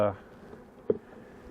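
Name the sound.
honey bees buzzing at an open beehive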